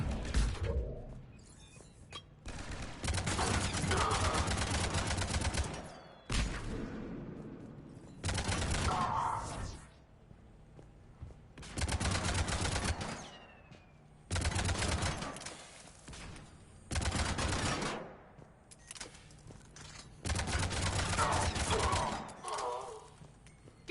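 Bursts of automatic gunfire from the video game Mass Effect 3, loud sustained volleys lasting a few seconds each, repeating in a steady on-off pattern with brief quieter gaps between them.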